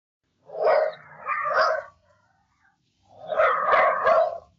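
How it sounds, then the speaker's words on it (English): Sound synthesised from an image of cats comes out like a dog barking: two gruff, bark-like bursts, a short gap, then two more, fairly close and moderately loud, with no speech. "There's even a picture of cats that sounds like dogs barking."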